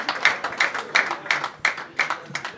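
Audience clapping at a Rayon Sports club gathering, a rhythmic burst of claps repeating about every third of a second, moderately close and steady for the whole stretch with no voices on top.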